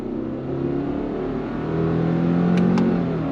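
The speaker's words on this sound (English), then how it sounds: "let me give you a little bit of on throttle from this angle" A 2024 Subaru Crosstrek Sport engine pulls steadily under throttle, its smooth, rising hum and drone building evenly with linear revs from inside the cabin, with a couple of faint clicks near the end.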